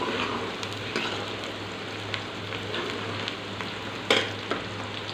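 Onions fry in a pan for chana dal palak, giving a steady close sizzle with faint crackles and a few sharp clicks of a utensil. Nobody speaks.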